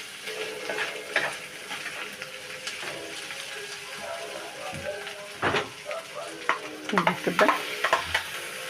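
Duck pieces, liver and gizzards sautéing in Egyptian country ghee, a steady sizzle with stirring scrapes and utensil knocks growing busier toward the end, and a brief spoken word partway through.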